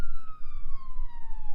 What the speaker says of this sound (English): the approaching sirens were a clear sign that someone had called 911